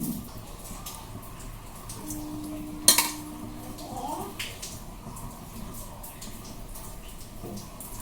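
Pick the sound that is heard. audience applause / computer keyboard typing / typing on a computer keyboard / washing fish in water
washing fish in water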